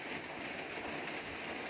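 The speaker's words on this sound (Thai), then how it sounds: "ฝนมาแล้วฝนมาแล้วฝนมาแล้วลมก็มาแล้ว" Steady, dense rain pours down with gusting wind, a continuous close hiss that fills the whole clip at an even level with no voices.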